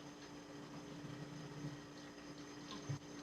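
Warm water running steadily from a household tap for rinsing, a low continuous pump-like rush with a small bump near the end, fairly quiet and with no one speaking.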